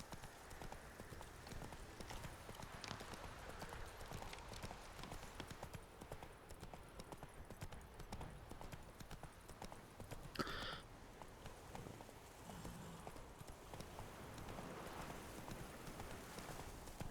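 Hooves of Roach, the horse in The Witcher 3, galloping in a quick steady clip-clop rhythm, moderately loud and continuous, mixed with game ambience and a brief sharp effect midway.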